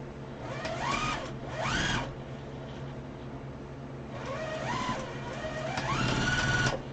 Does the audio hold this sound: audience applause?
no